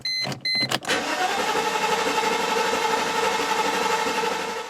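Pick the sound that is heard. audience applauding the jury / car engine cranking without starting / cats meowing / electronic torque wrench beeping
car engine cranking without starting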